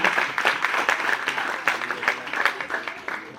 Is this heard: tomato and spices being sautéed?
no